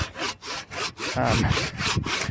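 A handsaw cuts through wood for a birdhouse, with steady back-and-forth rasping strokes that repeat in an even rhythm, close and loud, with no talking.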